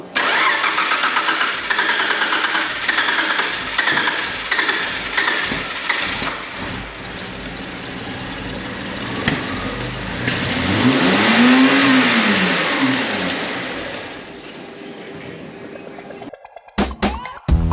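Mitsubishi FTO engine cranks and starts, then revs up loudly and rises to a sustained high rev before settling back, heard up close with no talking.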